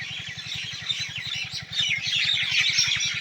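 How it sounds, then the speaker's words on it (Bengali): Many birds call together at dusk behind a house, with dense overlapping chirps and twitters at a moderate distance, over a low regular engine-like throb. "পিছনে শুনতে পাচ্ছেন হাজারো পাখির ডাক"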